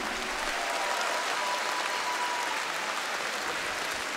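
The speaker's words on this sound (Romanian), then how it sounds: "Aplauze încă o dată" Crowd applause at a folk music awards gala, a continuous wash of many hands clapping at even loudness throughout, with no voices over it.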